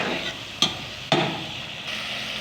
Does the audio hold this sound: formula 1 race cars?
no